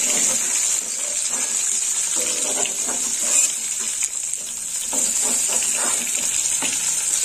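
Sliced onion frying lightly in oil, a steady close sizzle and crackle with occasional stirring scrapes throughout, no talk.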